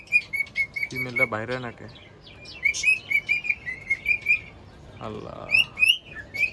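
Many kites call overhead in shrill, repeated piping chirps, a busy series of high whistles near and far, with someone briefly speaking between them.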